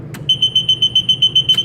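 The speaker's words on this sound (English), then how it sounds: "there's an alarm float which will turn on the alarm on the control panel over here" Float alarm sounding on a building's control panel, a rapid, steady train of loud piercing electronic beeps close by, with no talk.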